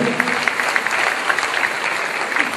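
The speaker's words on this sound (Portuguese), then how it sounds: "Aplauda o Senhor por essa palavra" A church congregation applauds during a worship service, a steady broadband wash of many hands clapping together, dense and sustained, with no one speaking over it.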